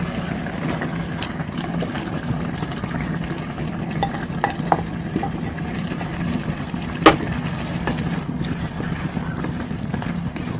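Potato, carrot and capsicum pieces being stirred into a simmering curd gravy in a pan, a steady low bubbling hiss with scattered soft scrapes and one sharper clink near the end, no voices.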